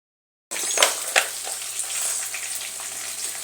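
Cashews and whole spices such as cinnamon, mace, cloves, black pepper and green cardamom frying in hot oil for Afghani malai seekh kabab, a steady loud sizzle that starts abruptly and carries a few sharper crackles and pops.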